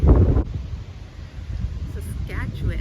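Gusty prairie wind in Saskatchewan buffets the microphone with low rumbling bursts, loudest at the start, while a voice speaks intermittently underneath.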